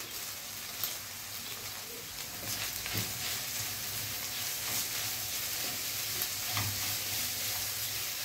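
Mixed vegetables sizzle and fry steadily in a pan with browned minced beef for Italian lasagna, a continuous crackling hiss with occasional stirring clatter, close and even throughout.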